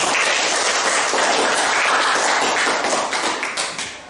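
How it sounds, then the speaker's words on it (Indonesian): Small group of participants in a teacher coaching session clapping together, a brisk close patter of hands that holds steady and then tapers off into a few scattered claps. "Kita tepuk tangan untuk Ayu"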